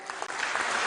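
Short burst of applause from a group, honoring Farzana, a woman who works as a guard; steady, fairly close clapping lasting under a second.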